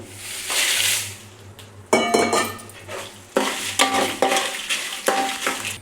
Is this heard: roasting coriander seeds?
yes